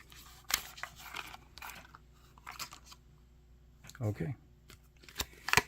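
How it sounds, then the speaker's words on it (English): A pack of cards for the miniature battle game Blood & Crowns being torn open, with crinkly rips and rustles in short bursts and people talking at times. "Like opening a pack of cards."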